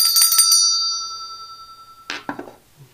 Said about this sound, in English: Oh, I didn't ring the bell.